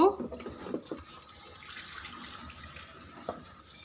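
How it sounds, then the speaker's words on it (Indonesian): Water poured out of a basin after washing equipment in liquid detergent, a faint, steady splashing and trickle that runs for a few seconds and is louder at the start. "Kemudian kita buang airnya"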